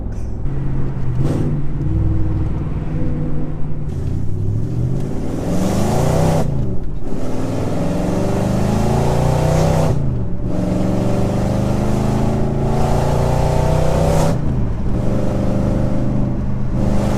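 A B7 Audi S4 25th Anniversary Edition with a straight-pipe exhaust revs hard under throttle. The loud, close engine note climbs and falls repeatedly, broken by brief dips between pulls, and no voices are heard.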